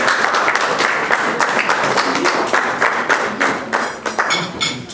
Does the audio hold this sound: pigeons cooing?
no